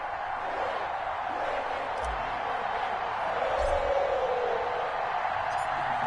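An NFL stadium crowd fills the air before a Week 13 December game between the Baltimore Ravens and the Cincinnati Bengals, a steady, distant, diffuse murmur and roar that holds at a fairly even level throughout.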